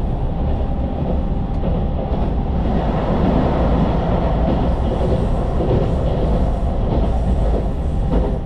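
A train rumbles steadily through a tunnel on a loop line in Kochi, Shikoku, a loud continuous roar of wheels and enclosed rail noise with no voices.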